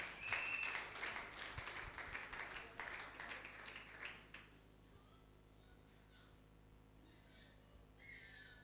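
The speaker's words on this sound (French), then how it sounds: "Cher peuple de Dieu, acclame très très fort." A church congregation applauding loudly for about four seconds before the clapping fades into a quiet room, with faint murmurs and a few scattered sounds afterward.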